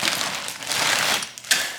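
Plastic bag packaging being unzipped, a short crinkly, scratchy rustle lasting most of the moment, close and fairly loud, with a sharper crackle near the end.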